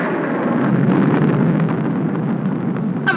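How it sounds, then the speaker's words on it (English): Thunder rolls in a storm scene from a 1946 film: a loud, broad, rumbling roar that swells and churns continuously for about three seconds, with no speech over it. "I'm afraid of the thunder and lightning."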